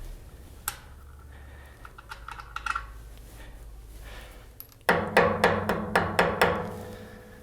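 Sharp metallic hammer blows strike an aluminum rod to drive a part out of a bevel gear on a PM728 milling machine, first as scattered light taps, then as a run of about seven evenly spaced, loud hits.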